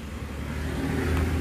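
A car engine runs just after starting, a steady low rumble that stays close and fairly loud for a moment with a slight swell. No voices are heard.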